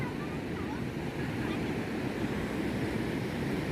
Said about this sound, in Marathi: समुद्र किनारा